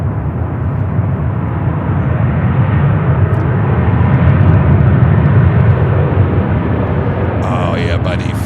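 Airliner landing on runway 36 Left at Charlotte airport with full thrust reversers, a loud, sustained jet roar close by that swells and holds, with brief voices near the end.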